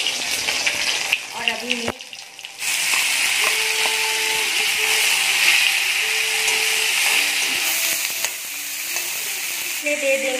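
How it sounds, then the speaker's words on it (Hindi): Washed fermented fish sizzles and crackles steadily in hot oil, a loud continuous frying hiss with occasional stirring clinks and a woman's brief speech over it. "तो तेल गर्म हो चुकी है, तो ये रही फर्मेंटेड फिश, मैंने इसे धो लिया और अभी मैं इसे तेल से देती हूँ।"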